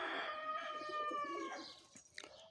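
A pigeon near the listener gives a soft, rolling coo in a garden, followed by a few faint flutters and clicks.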